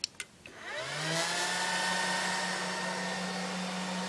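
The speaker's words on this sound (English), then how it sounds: "all you can hear in the video is just whirring fans" Cooling fans of an IBM eServer spin up after a couple of clicks into a loud, steady whirring drone with a sustained hum, close and continuous throughout.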